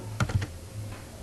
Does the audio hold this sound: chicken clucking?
no